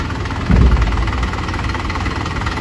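A tractor engine idles close by on a farm, a steady low diesel rumble with a brief louder swell early on, continuing evenly throughout.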